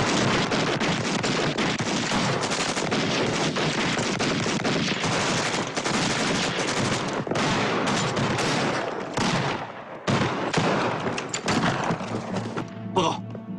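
Type 38 Arisaka rifle fire in a Chinese war drama about the defence of Changsha, heard as dense, continuous volleys of rapid distant gunshots that thin out briefly near the end.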